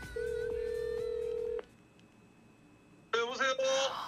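Telephone dialing for a call in MapleStory: a long steady tone with short beeps, then a quiet pause and a burst of ringing tones at the end.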